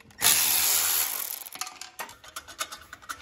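A ratchet wrench loosens the bolts of the muffler cover on a Kohler 7000 Series engine, first with a loud burst of noise, then a run of quick rhythmic pawl clicks close by.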